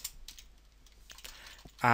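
Keys clatter in short bursts on a computer keyboard while someone codes an Android app, soft close taps with gaps between them, ending in a louder burst of sound.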